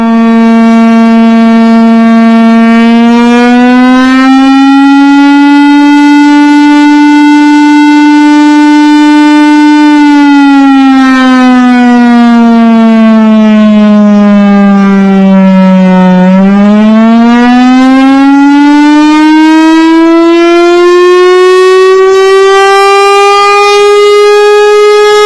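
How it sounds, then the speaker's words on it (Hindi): An air raid civil defense siren wails loudly and alone, rising and falling slowly in pitch over about twenty-five seconds with one deeper dip midway. "सोशल मीडिया पर सायरन बजने की वीडियो पोस्ट हो रही है, जिसमें ऐसा बजेगा कि हवाई हमले में सायरन कैसा बजेगा"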